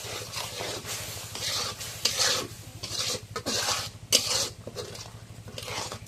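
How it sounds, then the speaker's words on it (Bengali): Masala spices are stirred and sautéed in a pan, a close, repeated raspy scraping of a utensil against the pan over a low, steady hum, with faint sizzling between strokes. "এখন মশলাটা একটু কষায় নিই"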